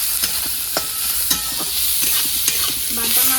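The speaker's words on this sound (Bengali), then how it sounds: "পেঁয়াজটাকে ভালো করে ভেজে নেব।" Sliced onion frying in oil in a home kitchen pan after garlic, for a spicy small carp curry, sizzling steadily with sharp scrapes and stirs of a spatula every half second or so, close and alone.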